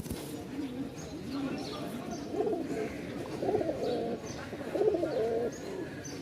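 Coffee-coloured Rajshahi Giribaz pigeons coo in low, repeated throaty calls, fairly close, while a person talks over them.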